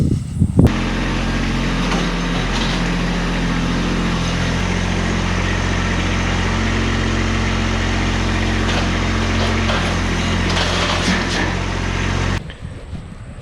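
A tractor engine runs steadily at close range with a low, continuous drone, cutting off abruptly near the end.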